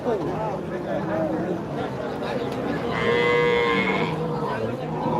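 Crossbred dairy cattle moo at a livestock market by a river. One loud, drawn-out moo rises near the end of the clip over a busy background of people talking.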